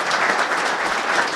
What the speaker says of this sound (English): I'd like to get a round of applause, to Coach Boyer